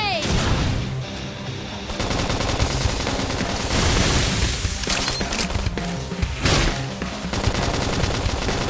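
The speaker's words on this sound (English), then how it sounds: "Flame grenade!" Loud bursts of crackling, gunfire-like blasts from a flame grenade attack in the video game Xenoblade Chronicles X come in dense, dynamic waves with brief gaps, over busy game effects.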